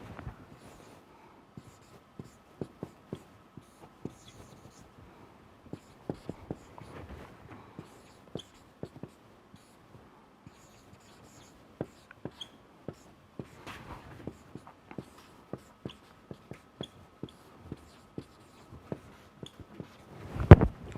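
Pen or chalk writing strokes while working through a vector calculus identity derivation involving the gradient of inverse distance, heard as quiet, irregular scratches and taps with brief pauses, alone without talk.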